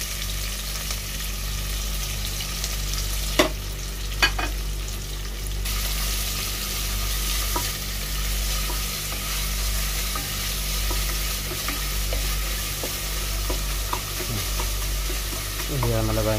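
Sliced onions with curry leaves frying until brown for a simple chicken curry, a steady, close sizzle with occasional soft stirring knocks, continuous from start to finish.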